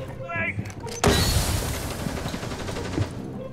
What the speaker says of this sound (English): That was a hand grenade.